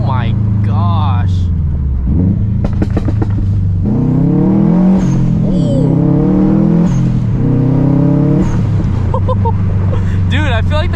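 A Subaru WRX STI with a single-exit catback exhaust accelerates, its engine note rising and falling through gear pulls, heard from inside the car with people talking over it.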